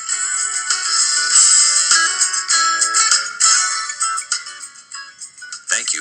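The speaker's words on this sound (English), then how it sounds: "Here is the most typical type of on-hold music that you hear." Typical telephone on-hold music plays as a steady, tinny, bright melody squeezed into a narrow band, loud and continuous with no voices.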